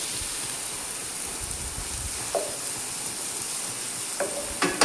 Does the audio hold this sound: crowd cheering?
no